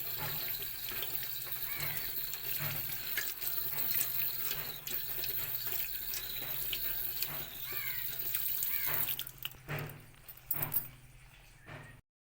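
A tap runs steadily while something is washed under it during homemade soap making, with close water splashing, clinks and handling noises, and the flow cutting off toward the end.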